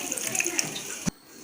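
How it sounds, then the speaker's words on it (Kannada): Water poured into a mixer grinder jar of cooled masala for mushroom gravy, a brief close splashing pour that stops abruptly, fairly quiet, with no talk. "ಸ್ವಲ್ಪ ನೀರು ಹಾಕ್ಕೊಳ್ಳಿ, ಮಿಶ್ರಣ ಗಟ್ಟಿಯಾಗಿರಲಿ"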